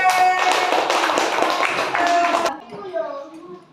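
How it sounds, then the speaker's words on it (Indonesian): Children in a primary school classroom clap together for group D, a dense burst of claps lasting about two and a half seconds before stopping abruptly, followed by faint voices. "Tepuk tangan untuk kelompok D"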